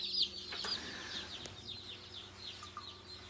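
Young Cornish meat chicks in a brooder give a steady chorus of soft, high peeping chirps, close by and fairly quiet, with faint rustling underneath.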